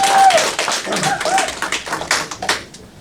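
A few people at a youth group meeting clapping briefly, sparse uneven claps close by that thin out and fade within a few seconds, with a voice overlapping at the start.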